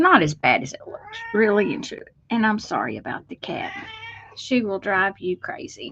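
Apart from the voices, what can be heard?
cat meowing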